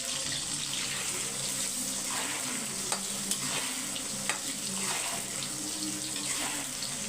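Capsicum and onion sautéing in oil, a continuous sizzle with stirring and a few sharp clicks of a spoon against the pan, steady and close with no talking.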